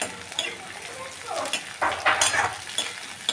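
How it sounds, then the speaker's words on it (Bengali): Onion and tomato frying in a pan while being stirred, a close steady sizzle broken by scraping spatula strokes in short bursts. "এটাকে হালকা লাল করে ভাজবো।"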